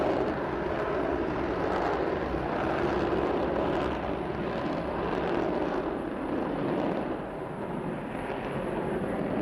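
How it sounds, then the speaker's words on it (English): The Concorde supersonic airliner in flight gives a continuous, broad roaring rumble of jet engines, steady and loud throughout with a slight dip late on, and no voices. "there's this airplane travelling faster than a rifle bullet on the edges of space"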